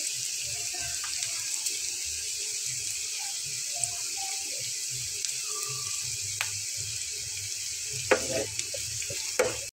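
Garlic fries in hot oil in a pan, a steady soft sizzle broken by faint occasional clicks of a spoon or spatula, with no one speaking.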